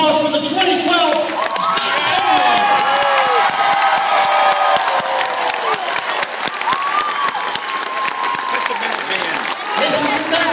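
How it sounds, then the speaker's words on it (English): A big crowd at a high school state championship celebration for the Loogootee Lions applauds and cheers without a break, with claps, whoops and shouts packed close together and staying loud the whole way through. "one more round of applause for the 2012"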